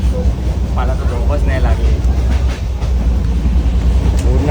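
Steady low rumble and rattle of a moving train, heard from inside a crowded passenger carriage, running continuously under close conversation.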